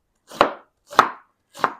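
A knife chopping onions into small cubes on a board, three distinct close chops spaced about half a second apart, with no voices.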